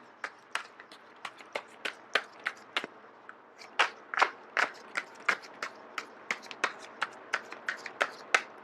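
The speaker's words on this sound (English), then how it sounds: "So once again, I am going to shuffle until the first card drops out." A deck of tarot cards being shuffled by hand gives a rapid series of crisp slaps and riffles, about two dozen sharp taps in irregular rhythm, close and quiet with no talking.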